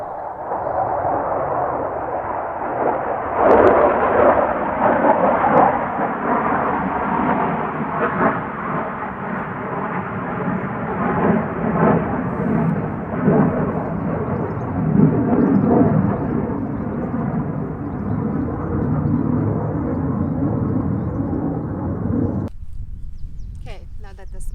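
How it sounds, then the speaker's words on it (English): A military plane passes overhead with a loud, sustained rumbling roar that stays steady for around twenty seconds before cutting off, outdoors at an off-grid homestead. "Military plane has passed."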